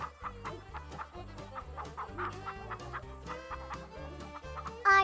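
Roosters cluck in a Hindi-dubbed animated movie, a quick rhythmic run of clucks repeating steadily over a low thumping beat, ending in a brief louder squawk, with no one talking.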